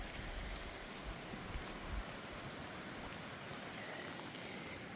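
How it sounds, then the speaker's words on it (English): Steady rain falls over a valley in the backcountry hills, a continuous dense hiss of drops on surfaces with no pauses, heard alone at a moderate, even level. "Still raining over the valley."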